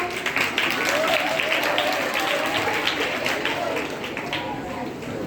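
Audience applause after a skit, a sustained burst of many hands clapping with crowd murmur, fairly loud at first and easing off toward the end.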